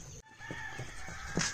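A hen with her small chicks clucks softly at a family farm, a few short clucks spread across faint outdoor background noise, with no talking.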